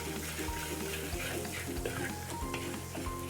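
Lots of garlic sizzles in hot oil alongside cumin for a Punjabi-style tinda masala, a continuous crackling fry with a low steady hum underneath, heard close and moderately loud.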